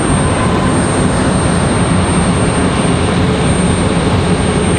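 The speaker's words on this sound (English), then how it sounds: "Got our FedEx ATR from Wilmington" A FedEx ATR turboprop aircraft at Raleigh-Durham produces a loud, continuous engine drone with a thin high whine running steadily throughout, close by and uninterrupted, with nobody talking.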